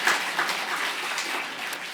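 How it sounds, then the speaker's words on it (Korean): A church congregation at a Sunday service applauding one another, a dense wash of clapping from many hands filling the room evenly for a couple of seconds, heard without speech. "우리 옆 사람 격려의 박수를 한번."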